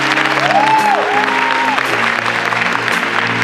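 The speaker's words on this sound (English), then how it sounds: "So give them another round of applause." Audience applause after a modern dance performance at a forum event fills the room with steady, dense clapping, mixed with a few rising whoops and sustained tones that carry over the crowd.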